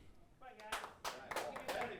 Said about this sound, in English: Little frustration clap, I would imagine.